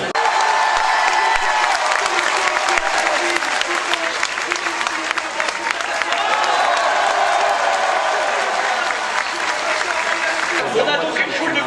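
A large crowd at the GP Explorer 2 motor race applauds and cheers continuously, a dense, loud wash of clapping with scattered shouts that fades slightly near the end, with voices mixed in.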